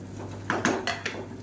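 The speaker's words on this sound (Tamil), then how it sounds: "சேர்த்துட்டு நல்லா கலந்து விட்டுக்கலாம்" Soaked rice is being mixed in a pressure cooker pot, giving a few sharp metallic clinks and scrapes of a utensil against the pot in quick, uneven succession.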